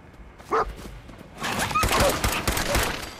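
Dogmeat, the dog companion in Fallout 4, lets out a few short barks amid gunfire and combat noise during a fight, with a voice speaking briefly.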